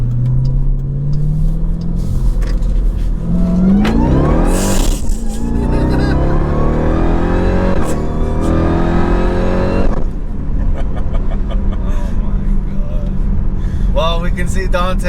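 A built Jeep Trackhawk of roughly 1000 hp accelerates hard, its engine note climbing through gears with loud rising roars and shifts, while people talk over the noise.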